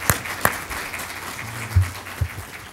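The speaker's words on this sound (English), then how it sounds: "join me in thanking our panelists and a round of applause for their time" Audience applause for the panelists at a health disparities expo session, a modest room of clapping with scattered sharp claps and a low murmur beneath, fairly even in level.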